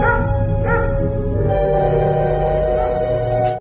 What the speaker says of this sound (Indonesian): Tess mendengar suara anjing menggonggong